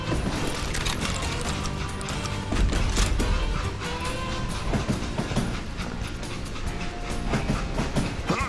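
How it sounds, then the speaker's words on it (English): Rolling train in the video game Call of Juarez: Gunslinger, with dense rhythmic clickety-clack of wheels on tracks and mechanical rattling, moderately loud and continuous with no talk. "It was then that Jesse detached the express car from the rest of the damn train."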